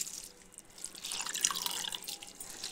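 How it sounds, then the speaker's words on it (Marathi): Excess water dripping and trickling from squeezed boiled spinach, made for palak paneer, a soft steady patter of drops with no talking. "गार करून चांगला असा आता त्याच्यात जे एक्स्ट्रा पाणी असतं ते पिळून घ्यायचं"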